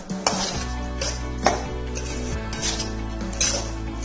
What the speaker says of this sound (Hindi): अब हमें इसे चीनी डालनी है, दूध पाउडर डाल लेना है और इसे दोबारा अच्छी तरीके से मिक्स करना है।